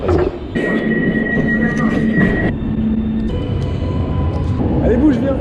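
Metro train in Milan, a loud steady rumble of carriages with whining tonal motor hum shifting in pitch, heard from inside or beside the train with people talking over it.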